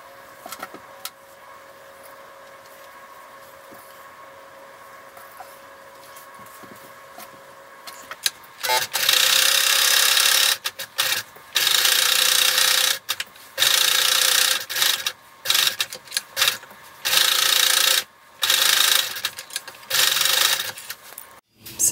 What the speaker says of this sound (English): And pin that in place, and then you'll sew around each leg.